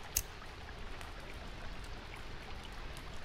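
Rain falling in the survival game Sons of the Forest: a soft, steady patter of drops, faint and even throughout, with one brief sharp tick near the start.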